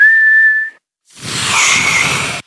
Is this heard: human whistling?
yes